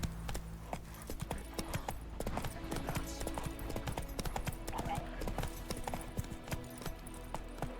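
Hooves of Geralt's horse Roach clip-clopping steadily at a trot in The Witcher 3: Wild Hunt, a continuous rhythmic patter beneath ambient game sound and occasional speech.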